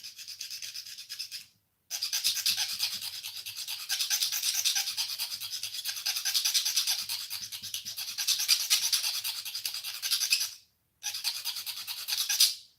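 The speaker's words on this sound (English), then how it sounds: "I'm sanding the panel" Steady scratchy rasping of sandpaper rubbing back and forth on a plastic 1/48 scale Tempest model panel, continuous with two brief pauses, close and moderately loud.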